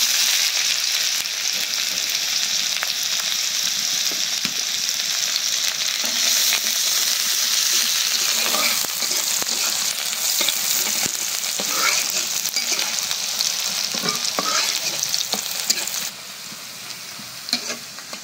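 Chopped onions sizzle and crackle steadily in a hot pan, with occasional scraping stirs, then the frying dips quieter near the end.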